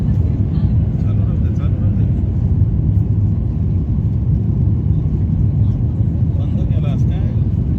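Inside a passenger airplane cabin just after a night takeoff from Mumbai, a loud, steady low engine roar and rumble fills the space, with voices partly audible beneath it.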